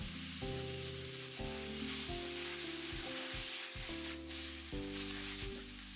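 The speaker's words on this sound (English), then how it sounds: "reducing the sauce is an essential step" Ginger pork sauce reduces in a hot pan, giving a steady, loud close sizzle with a low bubbling undertone that continues throughout while the pan is shifted now and then.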